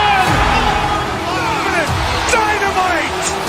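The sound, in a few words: crowd cheering in basketball video game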